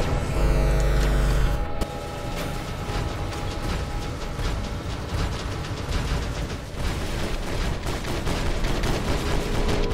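Laser weapons fire in the mech combat game War Robots, a dense, continuous barrage of rapid shots and mechanical clatter that stays loud throughout, after a brief low droning tone at the start.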